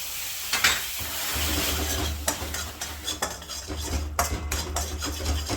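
A utensil stirs and scrapes a green-tinted sesame brittle mixture in a pan over a low gas flame, steady close scraping with a soft sizzle beneath and sharper clinks against the metal.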